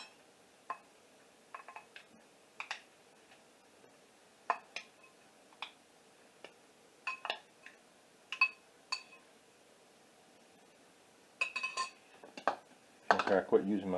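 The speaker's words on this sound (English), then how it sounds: "Put in 1/4 cup of carrots." Carrots spooned into a glass canning jar through a funnel for hamburger potato soup, giving scattered light clinks and taps of metal on glass, a busier clatter near the end, with no talk.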